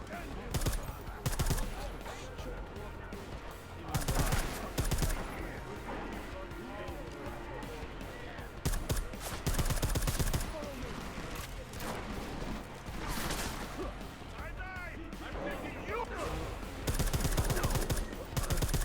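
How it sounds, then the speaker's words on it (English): Rifle gunfire in the video game Deus Ex: Mankind Divided, dense bursts of shots and impacts running throughout amid game sound effects and voices, loud and continuous. "This rifle's not bad by any means."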